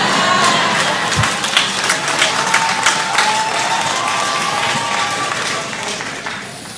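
Audience applause at a church sermon, a broad steady wash of many hands clapping that holds throughout and tapers slightly near the end, with a faint hint of voices in the crowd.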